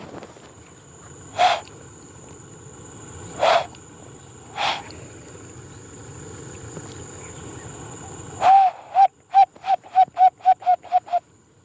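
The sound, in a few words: bird call lure imitating bird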